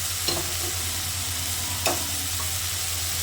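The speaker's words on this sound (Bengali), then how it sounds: "এবার আমি এই পর্যায়ে ভেজে রাখা কচুগুলো এর মধ্যে দিয়ে দিচ্ছি।" Fried taro pieces stir-fried in a spice masala with released oil, a steady close sizzle broken by two distinct scraping stirs of a spoon against the pan.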